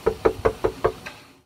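Six firm knocks land on a front door in a quick, even rhythm, the last one lighter, each a sharp close thud with no voices over them.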